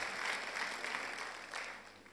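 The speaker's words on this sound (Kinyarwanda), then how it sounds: "Ubwo rero mwiha amashyi" A church congregation applauds together, a steady, dense wash of clapping that holds at moderate volume for about two seconds and eases slightly toward the end.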